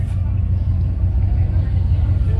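A classic car pulls away from a beach-side car cruise, its engine giving a steady, loud low rumble that holds for the whole stretch, close by, with people talking underneath.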